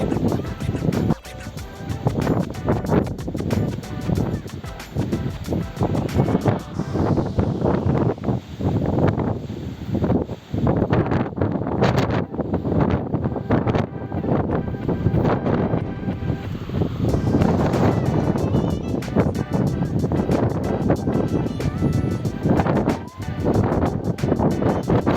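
Strong, gusty wind buffets the microphone throughout a ride on an E-RIDE MT-8 electric motorbike, a loud continuous roar of broadband rumble with swelling gusts, and no engine note rises above it.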